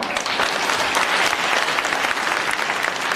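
Sustained, dense applause from a crowd at a religious satsang in a temple, steady and loud throughout with no pauses.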